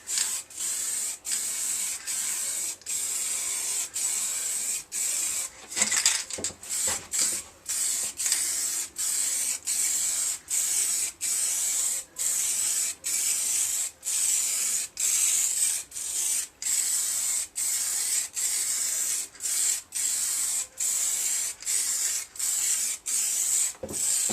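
Aerosol tint sprayed from a tin onto a Suzuki Bandit 1200S motorcycle screen in a garage: a steady hissing spray in repeated short bursts with brief gaps, close and loud, no talk.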